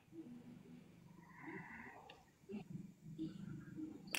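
A man snores faintly in slow, rasping breaths, heard over a live voice stream.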